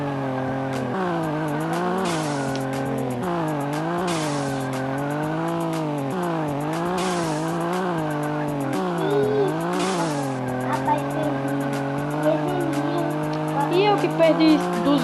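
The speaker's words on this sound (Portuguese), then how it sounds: "Mas ele é bom de dar drift." A Chevette drifting in a racing video game, with a long sustained tire squeal that rises and falls in pitch over a steady engine tone, loud and continuous throughout.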